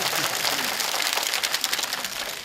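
Crowd applause at the 29th Cheongsong County Farmers' Day ceremony, a dense, steady patter of clapping hands that holds for the whole stretch at moderate loudness.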